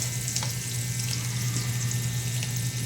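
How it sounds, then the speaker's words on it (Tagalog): Garlic frying in a pan, a steady watery hiss and crackle with a low hum underneath, even and continuous. "Lutuin natin ang bawang para masarap."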